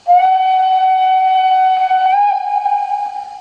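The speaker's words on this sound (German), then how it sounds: "Dann haben wir den langen Pfiff." A long, steady steam whistle from a 1:32-scale model of a Baureihe 98.0 steam locomotive sounds alone for over three seconds, holding a bright tone that dips slightly in pitch near the end.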